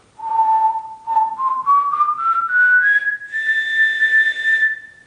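A single person whistles a clear, steady tone that rises step by step in pitch over several seconds, close and loud with no talking.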